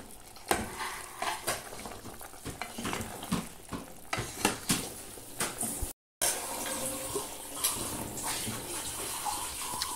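Water poured into a cooking pot on a home stove with tomato and peppers already in it, a splashing, hissing rush with stirring clatter, a brief gap midway, then more steady pouring and sizzle.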